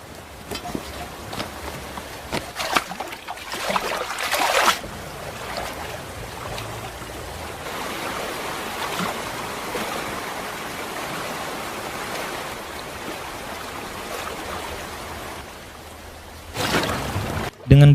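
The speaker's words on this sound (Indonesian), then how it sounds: "John pun harus berenang menyeberangi sungai itu." River water rushing and splashing as someone swims across a river, a steady broadband wash of moving water with louder bursts of splashing near the start and end.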